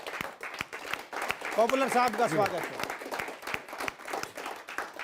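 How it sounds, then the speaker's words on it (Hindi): Audience claps in welcome for a poet at a Hindi kavi sammelan, scattered sharp claps around a short spoken greeting from the stage, the clapping thinning out toward the end. "जोरदार तालियों से स्वागत करते हैं जनाब पॉपुलर मेरठी का।"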